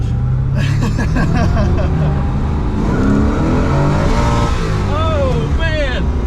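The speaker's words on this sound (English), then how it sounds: "we're gonna take it for a drive" A 1967 Corvette with a 427 engine pulls away and accelerates, its big V8 rumbling loud and close with rising revs through the gears, while a person talks over the engine noise.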